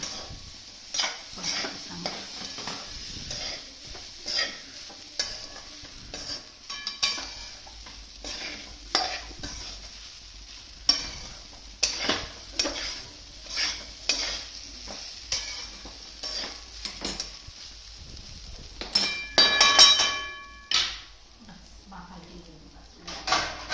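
Sabudana is stirred and tossed in a pan with lemon juice squeezed in, producing repeated close scraping and clattering of the spoon against the pan over a low sizzle, with a voice talking at times.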